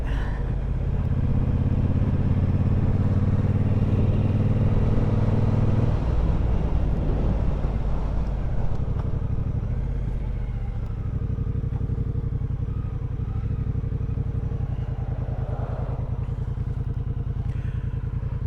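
A motorcycle engine runs nearby on a chilly day, a loud low rumble that shifts as the bike pulls away and settles into a steadier drone, with some clattering and no voices.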